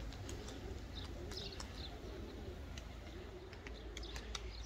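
A large flock of pigeons on a rooftop coos continuously at close range, with scattered chirps over a low background rumble.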